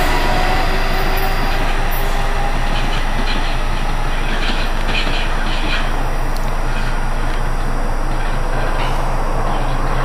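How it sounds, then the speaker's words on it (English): An Amtrak Keystone passenger train to Harrisburg rumbles past loudly and steadily at Exton, a constant roar of wheels and engine filling the scene throughout. "Here comes the Amtrak train to Harrisburg from New York Penn Station."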